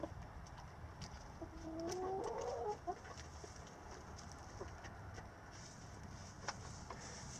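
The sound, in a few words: chickens clucking, Rhode Island Red and black sex-link hens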